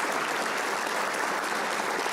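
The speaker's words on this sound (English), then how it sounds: "Let's give our award winners and our generous scholarship donors one more round of applause." Steady, dense applause from a school awards and commencement ceremony crowd honoring award winners and scholarship donors, continuous and full throughout with no letup.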